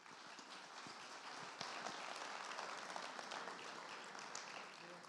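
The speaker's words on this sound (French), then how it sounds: "sous vos applaudissements nourris et matinaux" Morning applause from a convention audience, a faint, distant patter of many hands clapping that swells slightly midway, with murmured voices mixed in.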